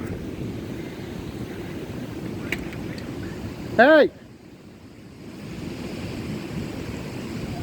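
Strong derecho storm wind roars steadily as a broad, rushing wash, with a brief loud voice and a short whistling tone cutting through midway before the gusts settle and build again.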